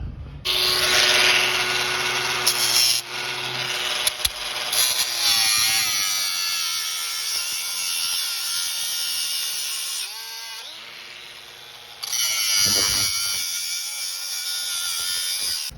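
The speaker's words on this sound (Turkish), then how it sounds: "Şimdi taşlayacağım bunları." A small angle grinder smooths metal pieces with a loud high-pitched whine and scraping. It runs in long bursts, drops and changes pitch as it bites, then spins up again near the end.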